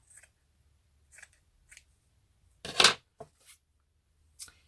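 Scissors cut a piece of journal cover material in a few short snips, with one louder, longer cut in the middle, all close and otherwise quiet.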